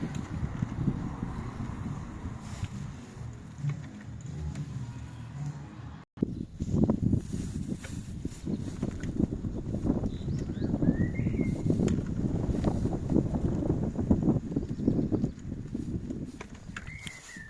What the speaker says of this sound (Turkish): Açık alan olduğu için rüzgarlı ya.